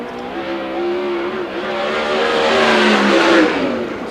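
A 410 sprint car roars around Bakersfield Speedway on a qualifying lap, its engine a loud, sustained whine that rises and swells as it accelerates before easing slightly, with no talking.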